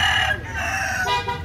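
A white Kelso gamefowl rooster crows nearby, a loud, drawn-out call with a rising and falling pitch that fills the short moment.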